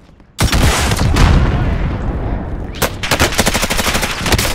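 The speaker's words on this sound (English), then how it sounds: "Under heavy fire." Gunfire in the Call of Duty Modern Warfare video game during an ambush, a sudden loud blast followed by sustained rapid bursts of automatic fire, close and dense, with no talking.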